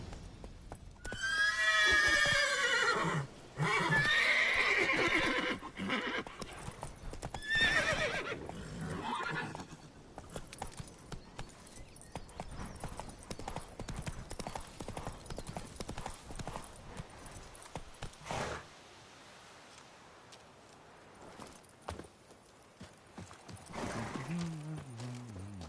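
Horse riding in Witcher 3: rhythmic clip-clop hoofbeats under loud neighs and whinnies early on, then a steady galloping trot that fades softer toward the end.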